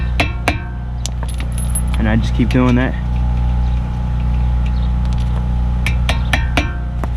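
Sharp metallic taps from a hammer on a stud while replacing front brake pads on a 2009 Audi Q7 land in scattered pairs and short runs, heard under someone talking and a steady low mechanical hum.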